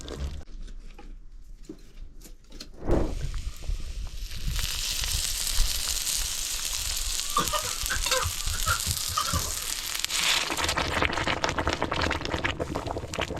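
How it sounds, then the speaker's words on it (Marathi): Garlic tempering is poured into hot oil on a wood-fired clay stove. A few seconds of quieter noise give way to a sudden loud burst of sizzling that settles into a steady, close crackle. "पूर्ण तडका बसतोय त्या लसूणचा"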